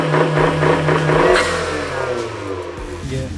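A Fiat 500 Abarth accelerating, its engine note rising loud and close over a few seconds as the car pulls away.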